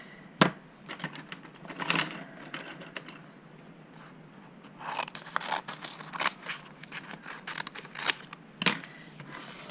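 Scissors cutting through a small stack of four paper pieces, giving a run of crisp snipping and crunching strokes in uneven bursts, close and fairly loud with no talk.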